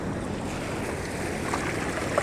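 Ocean surf rolls onto a beach in Sukabumi, West Java, a continuous broadband wash of breaking waves mixed with wind buffeting the microphone, steady and fairly loud with no speech.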